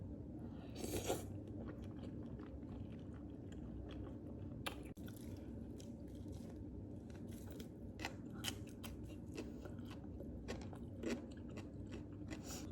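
Close chewing of tteokbokki with fried tofu pockets, eaten mukbang-style: a low, steady mouthful of soft squishing with scattered sharp crunchy clicks, no talking.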